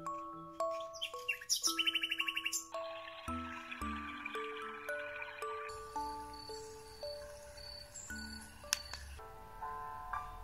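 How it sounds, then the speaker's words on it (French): Recorded birdsong plays from a children's MP3 lullaby player, with bright chirps and tweets over tinkling, chime-like tones, fairly quiet and steady. "des oiseaux"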